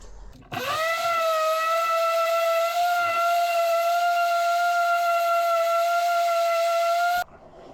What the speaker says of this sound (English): Now we just sand it smooth again with 100 grit